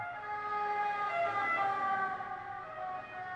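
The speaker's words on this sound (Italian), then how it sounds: "veramente un'ambulanza" An ambulance siren wails steadily outdoors, heard faintly from a distance, with a continuous tone under light traffic rumble and no talk.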